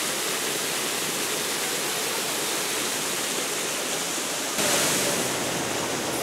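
Steady, dense rush of a waterfall in the mountains on the Biltmore Estate grounds near Asheville, North Carolina, a constant broadband roar that swells slightly louder near the end, with no voices.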